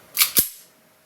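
Two quick metallic clacks in close succession, the slide of a Tokyo Marui Glock 17 Gen.4 airsoft pistol racked back and snapping forward, close and crisp with a short ring.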